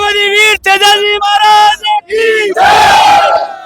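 RLP party workers at a rally at Bhairana Dham, angry over the NEET paper leak, chant slogans and battle cries in unison. The loud, close, rhythmic bursts break briefly between calls, and the last one swells into a massed roar.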